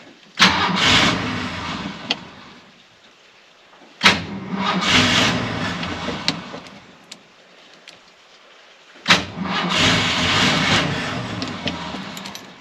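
A 1983 Ford F-100 pickup engine with an aftermarket carburetor cranks three times in long grinding bursts, each starting with a sharp click and ending without catching, separated by brief quiet gaps.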